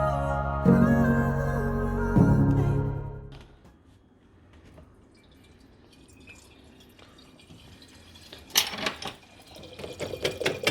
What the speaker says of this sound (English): Inside it's raining, bro. I can hear it, but I can't feel it.